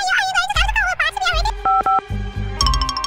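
Telephone keypad dialing tones, a series of short steady DTMF beeps pulsing in quick succession, mixed with cartoon-style background music and effects in a kitchen prank scene.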